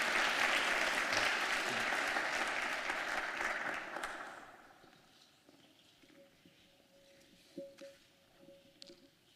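Applause from an award ceremony audience after a performance by traditional dancers, a dense broad wash of clapping for about four seconds that fades out, leaving a quieter room with scattered faint sounds.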